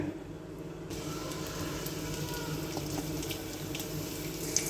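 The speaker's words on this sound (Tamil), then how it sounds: "இதை தண்ணி மட்டும் வடிச்சு எடுத்துக்கோங்க" Water drained off boiled rice pours in a steady, close rush like a running tap, a continuous splashing flow for the whole few seconds with no talk.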